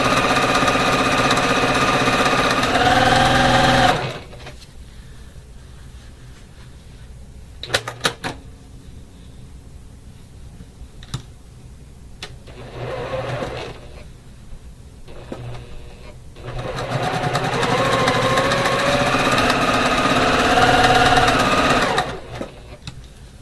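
A sewing machine stitches a quilt block in two fast, steady bursts at the start and near the end. Between them come quieter handling noises and clicks, all close up with no talking.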